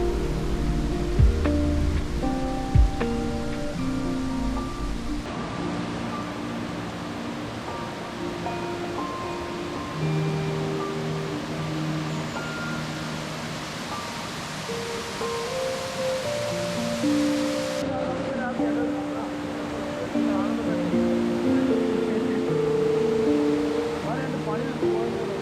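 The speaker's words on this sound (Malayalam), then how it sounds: "ഈ വെള്ളം കുത്തി വലിച്ചിറക്കി വരുന്നുണ്ടോ" Water rushes steadily down a forest stream at Vilayattupara, a continuous broadband roar that runs the whole time with other sounds faintly layered over it.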